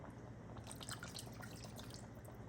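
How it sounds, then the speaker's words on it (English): Cup of water poured into simmering beef sauce for spaghetti, a faint splashing, bubbling trickle over steady kitchen background noise. "I'll add a cup of water."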